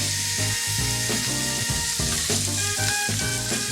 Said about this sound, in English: I think it's time to flip the ribs.